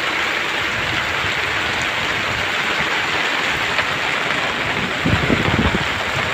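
Heavy rain pours steadily at sea, a dense unbroken hiss with a low rumble of thunder and wind swelling near the end.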